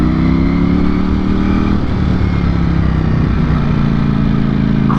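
A Ducati Streetfighter V4S motorcycle engine pulls steadily in third gear while climbing a hill at low revs, a loud, continuous close-up drone with a rough, throbbing texture throughout.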